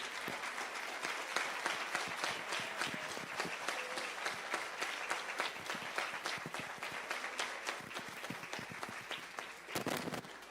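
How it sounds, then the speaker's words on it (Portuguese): Church congregation clapping hard for Jesus during an evening service, a loud, dense and sustained roar of many hands with crisp individual claps popping through, briefly swelling near the end. "Se essas palmas são para Jesus, elas são mais fortes"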